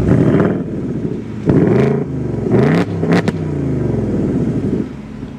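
A 2024 Ford Mustang GT with a Coyote V8 revs on remote start: several sharp exhaust blips come in quick succession, followed by a sustained growling idle, loud and close, with no voices.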